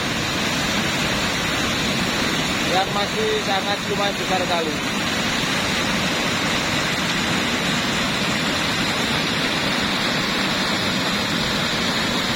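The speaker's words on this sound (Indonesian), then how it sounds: "ada dua air terjun di sini" Rushing river water pours over waterfalls during a Semeru lahar flood, a loud, dense, steady roar close by, with someone talking briefly over it.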